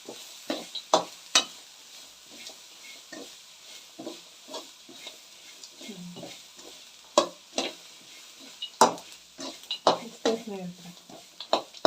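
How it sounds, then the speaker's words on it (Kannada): A spoon stirs chitranna powder into white rice with capsicum in a metal pan, giving irregular scraping and clinking strokes, some sharp and loud, over a soft sizzle. "ಈ ರೀತಿ ಹಾಕಿ ನೀವು ಚೆನ್ನಾಗೆಲ್ಲ ಮಿಕ್ಸ್ ಮಾಡಬೇಕಾಗುತ್ತೆ ಸ್ನೇಹಿತರೆ"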